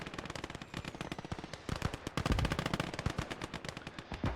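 Machine gun fire in the World War II video game Gates of Hell, rapid continuous bursts of shots with dense cracking rhythm, loud and close, no talking.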